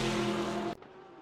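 A Porsche GT3 race car, the Roxy 77, roars down the Sebring straightaway in a sim racing game: a loud, steady engine drone that cuts off abruptly after about three quarters of a second.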